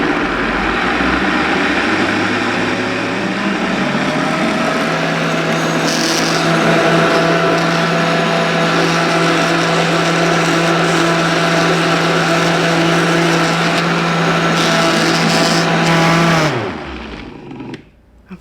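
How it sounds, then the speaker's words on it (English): A blender whirs loudly and steadily as it purees a thick vegan pumpkin cheesecake filling, its motor droning for about sixteen seconds before winding down and stopping. "This one we are gonna have to assist and help it a little bit for the blending"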